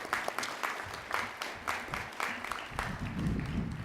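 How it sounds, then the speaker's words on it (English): An audience applauds at a Keuka College commencement ceremony, a steady sustained wash of many hands clapping that swells and ebbs through the whole stretch with no voices over it. "So please, applause again for all of them."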